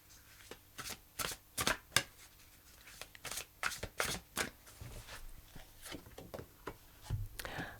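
Oracle cards, a fairly large deck, being shuffled in a series of crisp, rapid riffling bursts, close up and fairly quiet, with short pauses between them.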